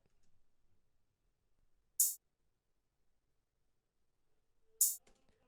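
Two isolated open hi-hat hits, bright and sizzling, separated by a long silence and each ringing briefly before cutting off.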